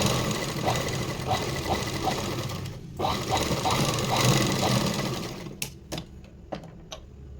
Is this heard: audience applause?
no